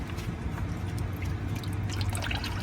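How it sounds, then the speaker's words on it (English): Motor oil dripping from a loosened oil filter on a 2000 Ford Mustang during an oil change, scattered small splashes and drips ticking irregularly over a steady low background hum. "there's oil dripping from that as well"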